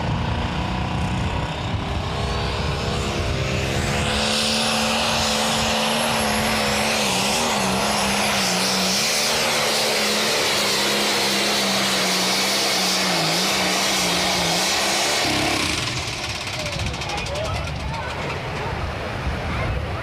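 A loud, sustained roar from a pulling tractor's engine at a tractor pull outside a fire station, droning steadily for about fifteen seconds before easing off, with its pitch wavering as the load changes and faint voices underneath.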